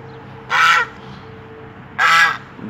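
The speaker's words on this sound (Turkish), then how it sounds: "Dişi kazımız" A female goose honks twice, loud and close, each call a harsh drawn-out blast about a third of a second long with a quiet pause between them.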